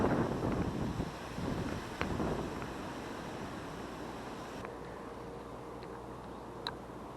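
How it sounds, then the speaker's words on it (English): Wind gusting across a riverbank during lure fishing for perch and pike, a steady broadband rush with louder buffeting in the first couple of seconds that settles into a softer, even blow, with no talking. "The wind has really picked up."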